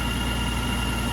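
Honda Goldwing 1800cc motorcycle engine idling steadily after an ECU replacement, a smooth, even low rumble with no missing beats, close and constant throughout.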